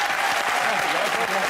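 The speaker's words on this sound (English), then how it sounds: "Applause for them, surely." Studio audience on the Pointless quiz show breaks into a brief, dense burst of steady clapping with a voice faintly under it.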